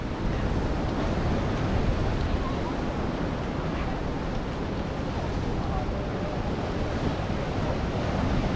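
Ocean surf rolls and washes continuously beneath Huntington Beach Pier, a broad steady roar with wind buffeting the microphone and no distinct breaks between waves.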